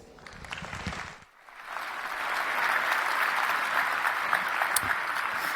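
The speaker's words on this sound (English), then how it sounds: "Please give Samuel a warm round of applause." An audience at a security conference talk on remotely exploiting iPhones through iMessage gives a warm round of applause, swelling after a brief lull into dense, sustained clapping that fills the rest of the stretch.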